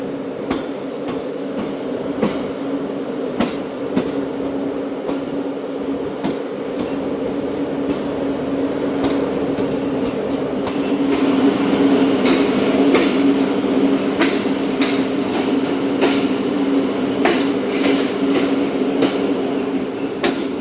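Tezgam passenger train running over railway tracks, with a steady rolling rumble and repeated clickety-clack wheel beats on rail joints that grow slightly louder toward the middle, heard alone and close.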